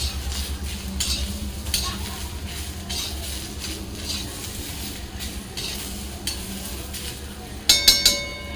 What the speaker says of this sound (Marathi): यामध्येच आपण हे एक छोटा टोमॅटो मी चिरून घेतला आहे तो घालूया आपल्याला भाजून घ्यायचा आहे